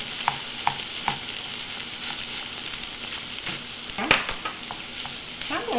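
Scrambled tofu stirred and mixed in a hot pan, soft sizzling with a run of light scraping taps and knocks from the spatula against the pan, steady and close with no talking.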